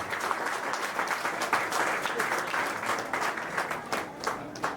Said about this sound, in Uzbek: Olqishlab turamiz